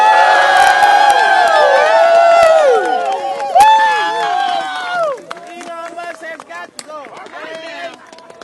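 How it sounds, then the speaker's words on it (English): A protest crowd cheers and whoops loudly, with shouts and voices layered over a steady roar that fades after a few seconds into scattered cries and chatter. "I want you all to give yourselves a big round of applause."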